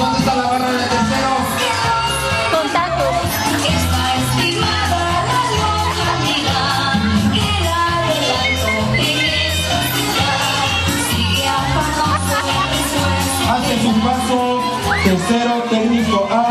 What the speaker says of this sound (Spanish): Que se escuchen esos aplausos.